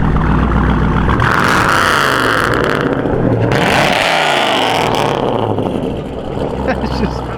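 A loud car engine revs hard close by, a roaring sweep that rises and falls over several seconds with wind and road noise, while people talk excitedly over it.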